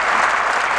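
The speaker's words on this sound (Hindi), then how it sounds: "ताली तो बजाओ, इतने सारी।" Dense audience applause fills a convocation ceremony hall, a loud continuous burst of many hands clapping at once.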